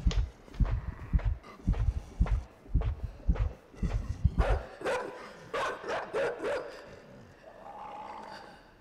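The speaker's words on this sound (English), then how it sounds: "there is a dog right now" A dog in the video game INSIDE barks repeatedly in a quick rhythmic series of loud, close barks, easing into softer growls and yips toward the end.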